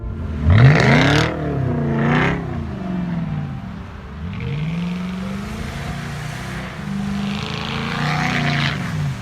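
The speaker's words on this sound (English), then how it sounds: "It's the Volvo S80 V8." A Volvo S80 V8 all-wheel-drive sedan revs hard and accelerates, its engine note sweeping up and down through several gear changes, loud and close with no talking over it.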